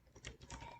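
Quiet, quick keystrokes on a computer keyboard, a short burst of soft clicks up close with no voice.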